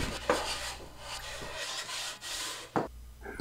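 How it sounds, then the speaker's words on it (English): Hand sanding on plywood for a bongo cajon top, a rough scratchy rubbing in repeated back-and-forth strokes, close by, with a couple of louder knocks. "I'm going ahead and sanding the top."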